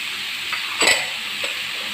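A spoon stirs finely chopped large tomato in a frying pan, making one clear scrape against the pan over a soft background hiss, with a fainter tap near the end.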